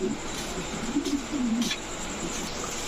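A big-sized pair of Indian Kakji pigeons, a male and a female, give low, soft rolling coos close by over a steady background hiss.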